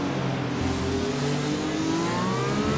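Race cars at Monza in a racing video game, a steady loud engine drone with rising pitch as the cars brake and accelerate, engine note sweeping upward continuously without talk.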